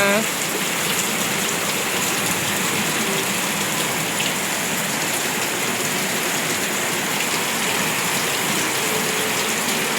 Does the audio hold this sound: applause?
no